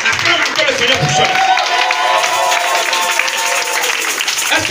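A church congregation applauds and cheers, a steady wash of clapping and crowd noise filling the space, with a voice speaking over it throughout.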